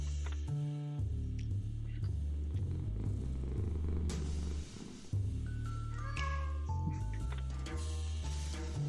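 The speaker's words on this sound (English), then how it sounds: "Ah, the cat is happy." A cat purring and meowing in the video game Lone Survivor, the soft rumble and short mews sitting under a steady, loud layer of game music and ambience.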